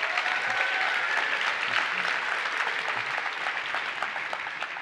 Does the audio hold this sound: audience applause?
yes